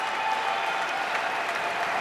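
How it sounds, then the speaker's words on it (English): A crowd at a squash match in Toronto claps and cheers in a dense, continuous wash of applause, loud and steady throughout without pause. "The crowd go wild"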